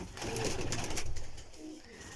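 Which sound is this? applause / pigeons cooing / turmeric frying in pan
pigeons cooing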